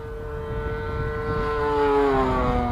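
A gas-powered Extreme Flight 74-inch Laser RC model airplane engine drones steadily, a buzzing tone that slowly drops in pitch as the plane passes, moderately loud with no talking.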